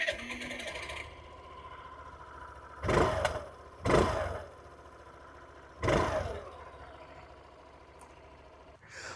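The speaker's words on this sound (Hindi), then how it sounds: "अब इसको स्टार्ट करके इसका साउंड सुनते हैं।" A Suzuki Avenis 125 scooter with a fuel-injected engine and automatic transmission idles quietly, with a steady low hum broken by three short, louder bursts of revving.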